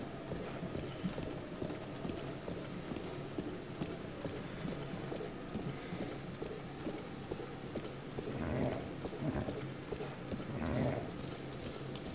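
A horse gallops in The Legend of Zelda: Breath of the Wild, with steady rapid clip-clop hoofbeats running throughout at moderate level over game ambience.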